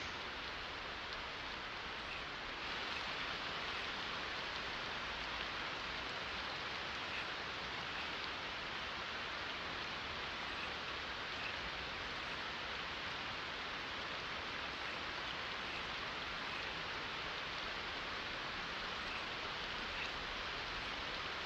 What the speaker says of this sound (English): that rain's going to be it's quite loud